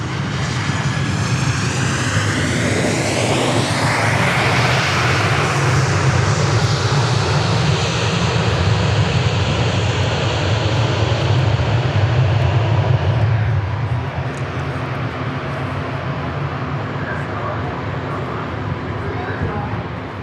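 A Boeing 737 MAX airliner with scimitar winglets passes at Dallas Love Field, its loud engine roar swelling and sweeping in pitch as it goes by close, then fading to a steady rumble, while people talk over it.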